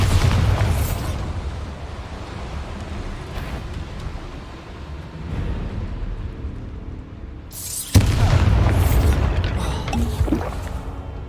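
Bombarda spell explosions in the Hogwarts Legacy video game, with heavy booming blasts and rumbling debris, a strong burst near the start and another loud impact about two-thirds through, all without voices.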